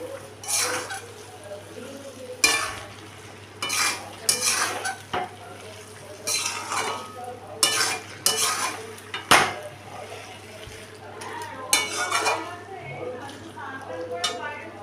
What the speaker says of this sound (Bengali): এই বাঁধাকপিটা পুরো ভালো করে কষিয়ে নেব যতক্ষণ না এটা একদম মাখা মাখা হয়ে যাচ্ছে।